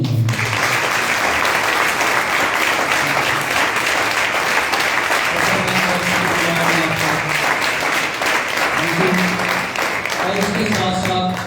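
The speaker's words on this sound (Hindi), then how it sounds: "इनकी हलीमी के लिए तालियां जरूर होनी चाहिए।" Church audience at a pastor's gathering applauds at length, a loud, continuous patter of many hands with scattered cheering voices and some speech murmuring underneath throughout.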